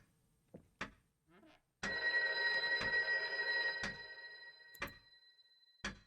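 An old-fashioned telephone bell rings in a long sustained metallic trill, starting abruptly and ringing for about two seconds before fading, surrounded by sharp knocks and scattered taps in a quiet room.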